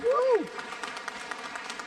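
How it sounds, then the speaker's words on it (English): A concert audience applauds the mandolin players of a mandolin orchestra; a voice whoops cheerfully at the start, then scattered, moderate clapping carries on at a modest level. "Big round of applause for mandolins."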